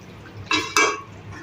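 A metal wok of mustard-sauce hilsa fish is lifted off a gas stove, giving two quick clanks of metal on the burner grate, the second a little louder, with no voices.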